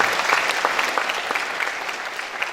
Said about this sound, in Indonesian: Tepuk tangan bagi Tuhan kita dulu